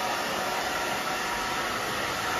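A hair dryer blowing on short hair, a continuous close, loud whooshing roar that holds steady from start to end with no talking.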